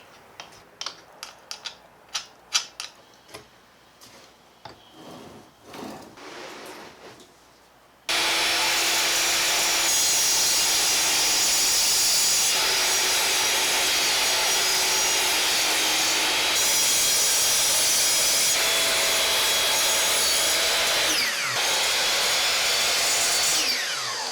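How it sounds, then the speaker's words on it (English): Two wooden planks stacked together are cut at once with a power saw; a few sharp knocks come first, then a loud, continuous, steady saw whine runs close for the rest of the clip with no talk. "I'm going to cut both planks simultaneously"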